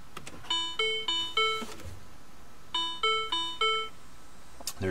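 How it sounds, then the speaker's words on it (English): Startup chimes from a car radio in a 2007 Mini Cooper S: two bright groups of four rising electronic tones, clear and close, separated by a short quiet gap in a calm cabin. "There's my happy little chimes."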